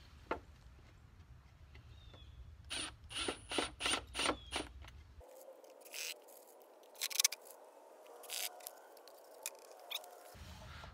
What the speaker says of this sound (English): So I just screwed them on here onto the base in the center.